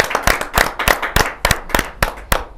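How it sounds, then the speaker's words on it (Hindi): The audience at a Hindi poetry gathering claps loudly and close by, in a rhythmic series of sharp hand claps that repeat for a few seconds. "जोरदार ताली के साथ।"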